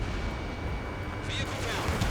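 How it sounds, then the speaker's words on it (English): A missile launches in the combat flight game Ace Combat 7, a deep rumbling roar with a broad rushing burst, set against a constant heavy engine drone. "H2, missile launch."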